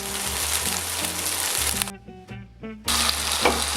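Cockerel pieces returned to a hot pan for a fricassee, sizzling loudly in fat, with a brief drop in the hiss midway before it surges back.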